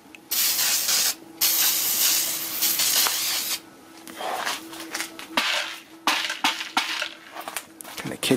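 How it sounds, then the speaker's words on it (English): A spray can mists coats of paint in a workshop onto magnetic core material, loud hissing bursts of varying length, some long and steady, others short and sputtering, with brief pauses between them. "And so I'm just going to spray all of this."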